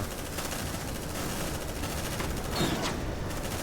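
Bursts of automatic gunfire in the sci-fi combat game Aliens Dark Descent rattle in a rapid, continuous fusillade, fairly faint and dense, with no speech in the clip.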